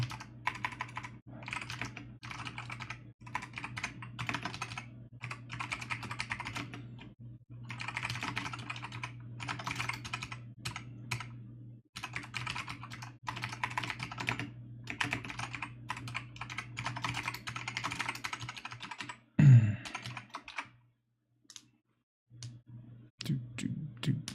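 A computer keyboard clatters with steady, rapid typing during a live game-programming session, the keystrokes close and continuous with a brief pause near the end.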